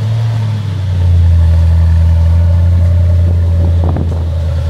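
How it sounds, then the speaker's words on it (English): A 2024 Ducati Panigale V4R race bike engine cold-starts and settles into a steady, loud idle, a deep rumbling drone heard up close with no talking. "Oh, let's get a cold start."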